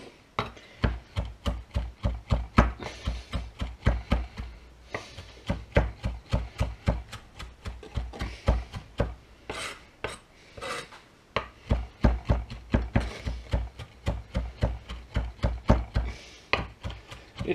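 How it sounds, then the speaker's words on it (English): Fresh basil and oregano blossoms being chopped with a knife on a board, a fast steady run of crisp close taps with brief pauses, alone without talk. "we're going to give that a bit of a chop up"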